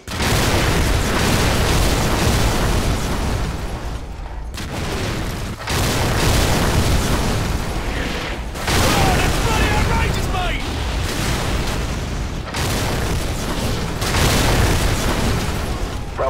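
Repeated heavy artillery strike explosions in Call of Duty 4, a called-in fire mission danger close against enemy armor and infantry, booming in dense successive waves with rumbling debris and brief gaps, loud and continuous throughout.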